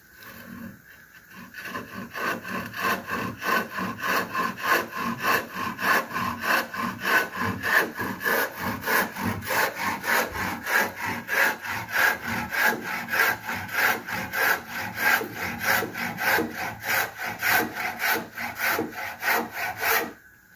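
A hand saw cuts through wood in steady back-and-forth strokes, a rhythmic rasping that continues evenly for a long stretch before stopping.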